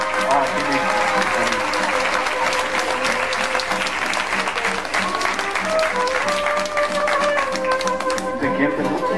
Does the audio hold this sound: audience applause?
yes